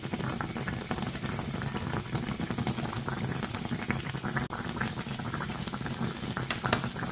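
Green beans and meat with paprika bubble in a covered pot over medium-high heat, a steady close simmer of crackling, popping bursts that runs continuously.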